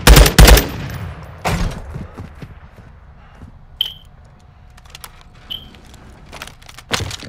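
Gunfire in Call of Duty: Modern Warfare II: loud bursts of automatic fire open the scene, then scattered single shots and distant cracks with a couple of short electronic beeps, ending on another loud burst.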